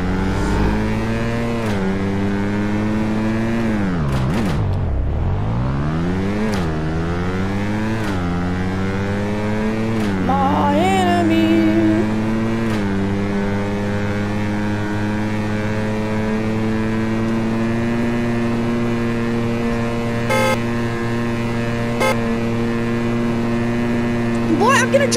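Dirt bike engine from the Roblox game, a loud steady motor drone with rising and falling revs, sweeping down and back up early on, then holding a strong constant whine, with faint voices underneath.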